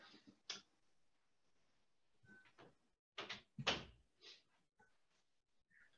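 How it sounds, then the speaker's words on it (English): An indoor door is pushed shut, with soft scrapes and handle clicks building to a firmer latching thump, all quiet and close in an otherwise still room. "I just got to close the door."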